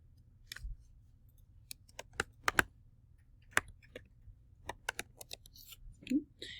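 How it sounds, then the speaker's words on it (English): Someone typing a word on a computer keyboard, sparse, quiet key clicks in an irregular rhythm over a low hum, with a soft thud near the end. "in the composition window, I'm just going to type the word lighthouse"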